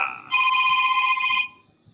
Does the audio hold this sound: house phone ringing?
yes